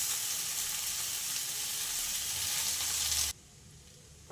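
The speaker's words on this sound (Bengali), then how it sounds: "এখন চাউমিনটা দিয়ে দেবো, ডিম দিয়ে দেবো, সব কিছু দিয়ে একটু মিষ্টি দেবো, দিয়ে ভালো করে নাড়াচাড়া করবো" Chow mein with egg stir-fried in a pan, a dense hissing sizzle that runs steadily for about three seconds and then cuts off abruptly into near silence.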